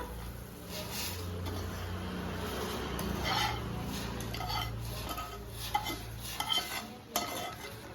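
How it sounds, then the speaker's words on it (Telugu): Roasted semolina is poured and stirred into boiling water in a pot for upma, making a steady close scraping and churning with light clinks of a metal utensil against the pot and no talking. "రవ్వ మంచిగా వేగింది. అది పొర్లే నీళ్ళలో వేస్తున్నా."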